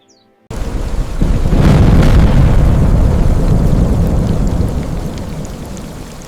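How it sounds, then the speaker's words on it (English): Heavy downpour roars steadily after a quiet start, with a deep rumbling thunderclap swelling early and rain continuing loud and dense, slowly easing toward the end. "That night, the heavens opened. Thunder roared like a lion"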